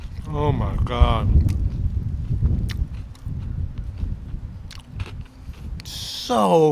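Someone bites and chews crispy fried fish with tartar sauce at a fish and chips shop. Loud crunching and chewing fill the clip, and short spoken exclamations come at the start and end.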